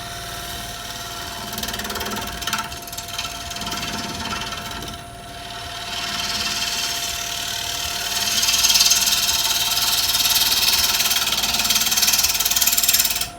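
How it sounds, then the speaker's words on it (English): A wood lathe turning a piece held on a glue block chuck, with a tool cutting across the face; a steady mechanical hum with a constant whine and a broadband scraping hiss that grows louder and rougher over the second half. "Then I'll do a cut across it and that should hopefully be done."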